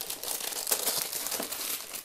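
Foil wrapping crinkles and tears as a 2018 Topps Holiday Mega Box of trading cards is ripped open, a bright continuous crackling rustle up close.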